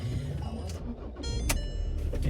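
A 2014 Ford Ranger 3.2 TDCI 200 Wildtrak diesel starting from inside the cab, a quick crank catching into a steady low idle rumble, close and fairly loud with a few faint clicks.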